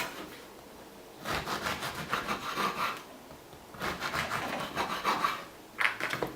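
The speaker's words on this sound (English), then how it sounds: "I'm going to take my loaf of bread, and I'm going to cut off a few slices of bread." A knife saws through a loaf of bread in two long back-and-forth passes of rasping strokes, close and clear, with a brief scrape at the end and no talk.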